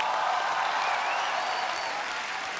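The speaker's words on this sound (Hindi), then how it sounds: "तो आप सबकी जोरदार तालियों के बीच बुलाना चाहूंगा हमारे मुन्ना माइकल।" A studio audience applauds steadily and loudly for the whole stretch, a dense even wash of many hands clapping, greeting actor Tiger Shroff on a Hindi comedy talk show.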